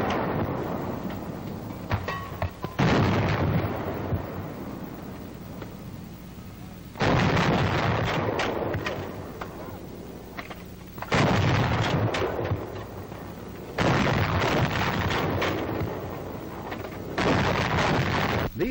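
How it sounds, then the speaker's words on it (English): Coast artillery guns firing in a 1942 War Department film: several heavy booming blasts, each followed by a long rumbling decay, spaced a few seconds apart and loud, on an old, noisy soundtrack with no talk. "the battery safety officer gives the signal to commence firing"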